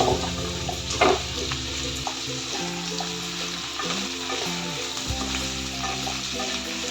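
Chopped pumpkin, eggplant and Malabar spinach stems sizzle steadily in hot oil in a pan, with sharp crackling and occasional stirring clatter, loud and close throughout, no talk.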